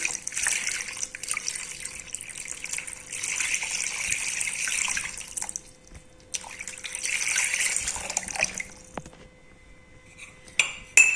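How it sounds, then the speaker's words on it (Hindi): Water poured from glasses into a cooking pot of spiced beef pulao, a steady splashing gush in two long pours with a short pause between, followed by faint clinks of utensils. "चार से 5 अदद गिलास पानी के ऐड करेंगे हम इसमें"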